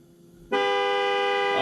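Truck-mounted train horns fed by an on-board air system with an ARB air compressor blast suddenly after a quiet lead-in, a loud, sustained, multi-tone honk held close by.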